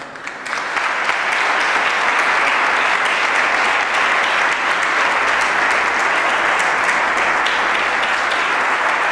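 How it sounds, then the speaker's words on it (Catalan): An audience applauds at an awards ceremony, sustained dense clapping from a large crowd that starts almost at once and holds steady and loud to the end. "m'agradaria també ara que féssim tots un aplaudiment per ella"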